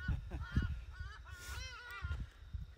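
Hadada ibis calling in flight, harsh honking cries rising and falling in a loose series, moderately distant, with low background rumble.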